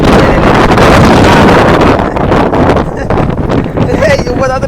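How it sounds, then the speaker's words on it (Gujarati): Strong storm wind roars and buffets the microphone in a dense, continuous rush, with a faint whine creeping in near the end. "પવન જ છે પવન જ છે"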